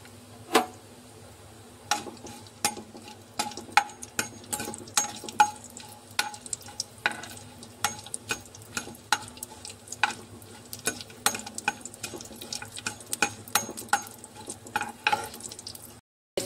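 Green chilies and garlic slivers frying in oil for gongura chutney: quiet, irregular pops and crackles spaced over a low background hiss, with no talking.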